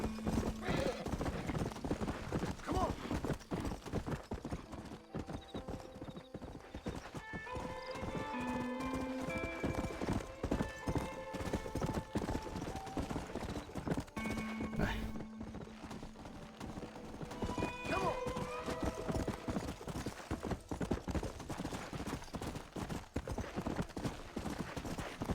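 Horse hooves clip-clop in a steady rhythmic gait while riding in the Red Dead Redemption video game, moderately loud with occasional tonal game sounds mixed in and a voice speaking at times.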